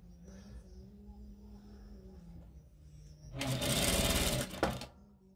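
Sewing machine stitching a seam on a hospital staff overblouse, with a single loud, close burst of rapid whirring lasting about a second and a half after quiet room hum and faint low murmuring.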